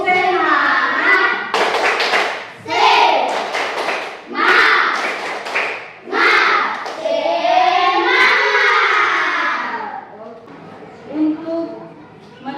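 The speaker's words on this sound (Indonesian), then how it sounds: "Tepuk semangat dulu. 1, 2, 3. Tepuk semangat." A classroom of students performs a rhythmic spirit clap, short bursts of patterned clapping mixed with loud chanting children's voices and a teacher speaking between the beats.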